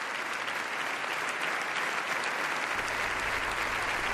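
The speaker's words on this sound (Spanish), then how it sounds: "Los reyes y sus hijas entraron en el patio de butacas y subieron al escenario entre aplausos" Dense, sustained applause from a theatre audience at Teatro Campoamor greeting the Spanish royal family, a steady roar of many hands clapping with no pause.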